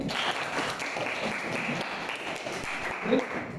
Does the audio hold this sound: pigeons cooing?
no